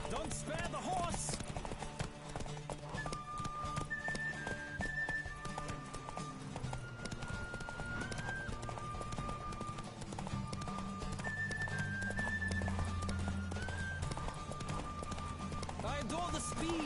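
Rhythmic hoofbeats of a galloping horse in The Witcher 3: Wild Hunt run continuously beneath a musical score and occasional talking, steady and fairly prominent throughout.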